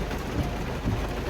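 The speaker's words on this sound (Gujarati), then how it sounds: "વરસાદ ધીમો ઝરમર જ સારો લાગે, આટલો ભારે નહીં." Heavy rain pours steadily as a dense, unbroken hiss, with faint low rumbles now and then underneath.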